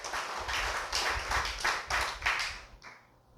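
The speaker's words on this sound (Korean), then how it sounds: "박수 박수 박수 박수." A congregation claps in a quick, steady rhythm, a run of about a dozen bright hand claps that fade out near the end, heard at moderate distance in a church.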